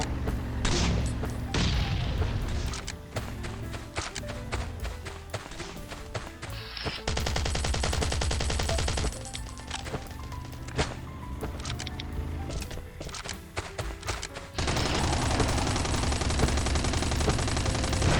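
Video game combat: rapid bursts of automatic gunfire crackle almost nonstop, broken by heavy booms and sustained roaring blasts as a car explodes, loud and dense throughout.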